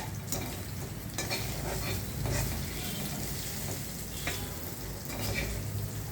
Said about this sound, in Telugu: ఇప్పుడు ఏం చేయాలంటే కలిపేసుకోవాలంట